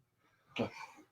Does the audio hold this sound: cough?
yes